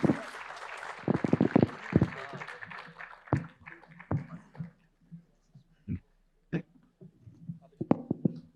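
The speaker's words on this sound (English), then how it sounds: "Guys, can we have a big round of applause," An audience at a talk on India's security and cinema gives a short burst of applause that quickly thins out into a few scattered claps and stray noises, with a voice speaking nearby.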